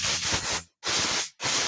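Compressed air blasts through a flooding Honda Supra carburetor in three loud, close bursts of broadband hiss, each separated by a brief pause, with no talking.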